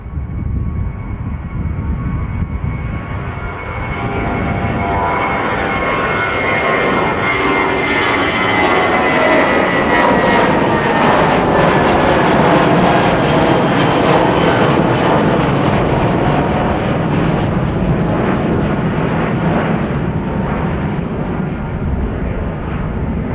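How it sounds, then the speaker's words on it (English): A large jet airliner takes off, its engine roar building from a distant rumble to a loud, sustained, broadband thunder that fills the scene before easing slightly. "From that, he did not take off extra steeply like the previous aircraft"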